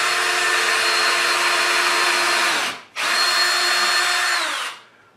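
Power drill driving screws into a tank rack in a workshop: two loud, steady high-pitched whirring runs, the first about three seconds long, a brief stop, then a second shorter burst that winds down.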